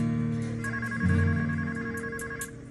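A telephone rings in a repeating electronic trill, mixed with music in a crime documentary, moderately loud with no talk.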